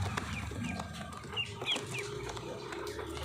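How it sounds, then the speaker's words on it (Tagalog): Peking ducks on a farm give several quick, faint nasal calls and clucking sounds over a steady low background hum. "So ito pala yung Peking duck."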